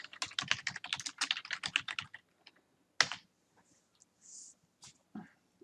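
Code being typed on a computer keyboard, a rapid close burst of clicking keystrokes for about two seconds, then a sharp key strike and a few scattered taps in a quiet room.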